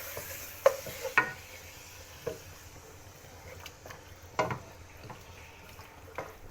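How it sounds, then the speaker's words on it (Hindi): Boneless beef frying in a pan, a soft steady sizzle broken by scattered scrapes and knocks of a spoon stirring against the metal, close and fairly quiet with no talk. "बीफ का कलर चेंज होने तक हम फ्राई करेंगे"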